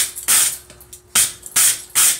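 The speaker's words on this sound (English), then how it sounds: "just using the concussive force of the hammer blow to get it to bend" Metal held in a vice is struck by a hammer to bend it, in four sharp, ringing blows at roughly half-second gaps, close and loud with brief decays between impacts.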